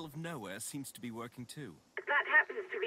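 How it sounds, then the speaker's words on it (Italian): After someone speaks, a telephone in the video game Autobahn Police Simulator 3 plays a rapid string of electronic dialing tones. "qua c'è anche un telefono che possiamo teoricamente provare"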